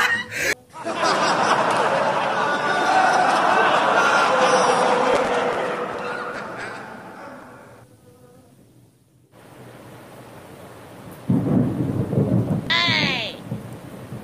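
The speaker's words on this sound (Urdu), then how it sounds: "بجلی کا گڑگڑانے کی آواز بھی آ رہی ہے" Heavy rain pours as a dense, loud hiss for several seconds, then drops away. A rumble of thunder and some laughter and voices follow near the end.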